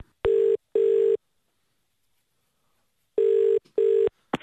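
A telephone number is keyed in as four loud, close touch-tone beeps. They come in two quick pairs separated by about two seconds of silence.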